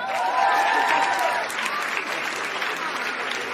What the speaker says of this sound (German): Ein Applaus für all diejenigen, die sich schon getraut haben.